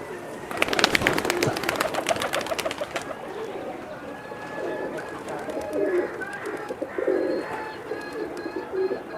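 Rajshahi local Giribaz pigeon chicks flap wings in a burst of sharp clattering beats early on, then coo repeatedly in soft rolling calls, close by with steady background chirps.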